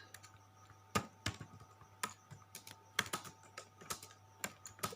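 Computer keys being tapped while coding a C++ program, with sharp clicks arriving in uneven clusters, close and fairly quiet over a low steady hum.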